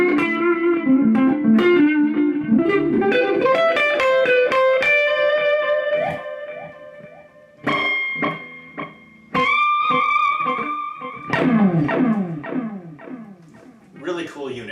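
Electric guitar played through a Boss RE-202 Space Echo delay pedal, with picked notes and chords trailing into repeating echoes that ring on between phrases, close and loud with no voice.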